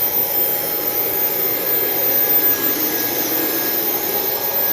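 An Embraer airliner's jet engine runs on the ground during a pre-flight walkaround, giving a loud, steady roar with a sharp high whine held throughout and no speech.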